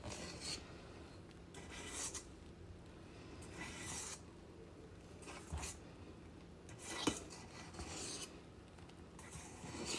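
A whisk or spatula folds angel food cake batter with egg whites and flour in a bowl, giving repeated soft scraping and rubbing strokes in slow rhythm with an occasional light clink against the bowl, close and steady.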